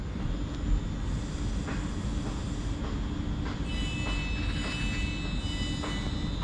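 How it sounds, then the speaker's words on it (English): British Rail Class 350 electric train departing a station platform, a steady close rumble with faint high whine and rhythmic wheel clicks running throughout. "But we'll watch 350 108 go out."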